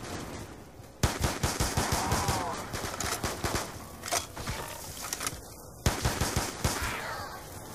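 Rapid gunfire in a zombie video game comes as bursts of sharp repeated shots mixed with roaring creature sounds and game noise, with loud onsets at the start and near the end.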